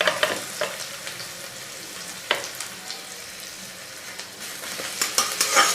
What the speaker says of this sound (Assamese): আৰু এতিয়া ইয়াতে মই নহৰুখিনি দিম